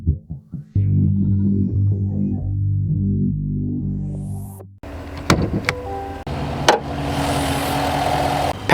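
Chevy Tahoe Z71 with a 5.3 liter V8 and 10-speed transmission starting and then running, a few cranking pulses before the engine catches into a loud steady idle hum, followed by a cut to more varied mechanical sounds nearby.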